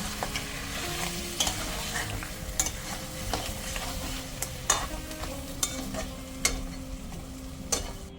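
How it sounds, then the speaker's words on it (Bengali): Crab curry with tomato ketchup sautéed in a pan, a soft continuous sizzle broken by repeated scraping and clinking strokes of a spatula against the pan, close and fairly quiet with no talking. "এবার আবার একটু কষিয়ে নিচ্ছি।"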